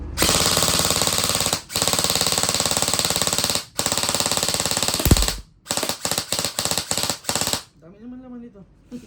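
An HFC AEG airsoft rifle fires on full auto in long, loud, rapid buzzing bursts, first extended strings and then several short choppy bursts, followed by a brief voice at the end.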